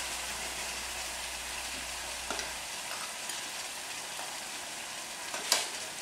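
Mutton frying in a kadhai with coriander powder, kasuri methi and curd, a dense, even sizzle held close and steady, with a few soft stirring scrapes and one brief metallic clink near the end.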